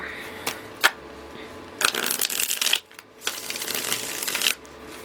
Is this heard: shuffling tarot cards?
yes